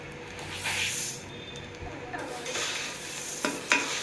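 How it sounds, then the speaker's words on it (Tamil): Coriander seeds dry roasting in a pan, a soft rustling hiss with intermittent scraping and a couple of sharp knocks from stirring, close by. "இப்போ பாதி மல்லி எடுத்து வச்சுருக்கோம் அதையும் வறுத்துக்கலாம்"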